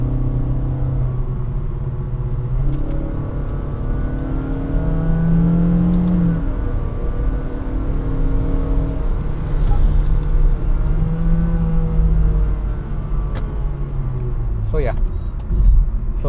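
A 2023 Honda BR-V driven in sports mode with manual gear shifts, its engine droning and rising in pitch as it accelerates, steady cabin rumble under someone talking throughout.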